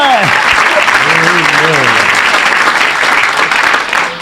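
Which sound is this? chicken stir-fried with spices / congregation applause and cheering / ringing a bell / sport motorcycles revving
congregation applause and cheering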